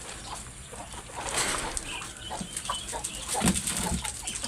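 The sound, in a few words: chickens and rooster clucking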